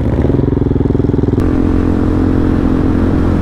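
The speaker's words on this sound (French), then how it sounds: "sa moto elle a fait gring gring et crac elle a guidonné" A motorcycle engine runs loud and close, starting with a rapid pulsing idle that shifts into a steadier, fuller drone partway through.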